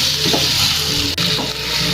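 Mushrooms and masala frying in hot oil in a kadai for a restaurant-style mushroom tikka masala, giving a loud, dense, continuous sizzle with a faint stirring scrape and one short tap, no voices.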